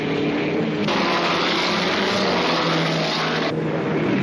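A vintage Grand Prix racing car of the 1945–1965 era roars past close by, a loud continuous engine howl with a sharp shift in tone partway through, alone with no voices.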